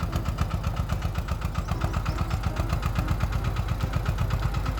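A four-wheel-drive kuliglig hand tractor engine chugs and revs steadily as it climbs out of a rocky creek, a loud, close, rhythmic thumping that runs throughout.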